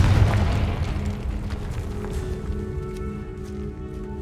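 A Confringo blasting-spell explosion in the Hogwarts Legacy video game opens with a loud, deep boom that fades into a long rumbling tail under a sustained tonal drone.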